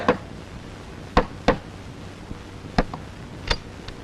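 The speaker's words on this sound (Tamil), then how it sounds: "கதவு யார தட்டுறாங்க" Sharp knocks on a door, sparse and irregular, a few single raps spread across a quiet room with faint background hiss.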